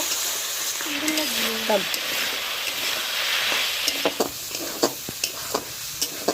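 Stale flatbread pieces frying in a pan with salt and turmeric, giving a steady sizzle with scraping stir strokes and utensil clinks near the end, while someone talks over it briefly.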